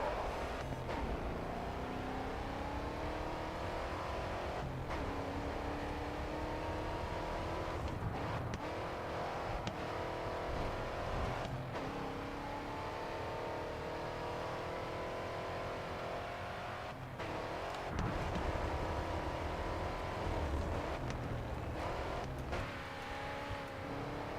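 A race car engine in the racing game Grid 2 drones and revs steadily for a long stretch, the pitch climbing through gears with brief dips at shifts, loud and close with no talk.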